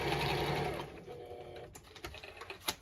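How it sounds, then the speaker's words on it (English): A sewing machine stitching across the top of a handmade button shaker card, a brief whirring run of needle strokes that stops after about a second, followed by a few light clicks and taps. "I'm going to take it to my sewing machine and I'm just going to sew the top"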